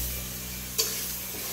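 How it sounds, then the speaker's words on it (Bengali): Spice masala for ghugni being sautéed in a pan, a steady low sizzle with a single sharp utensil tap partway through, close and unaccompanied by talk. "মশলাটাকে ভালো করে কষিয়ে নিতে হবে।"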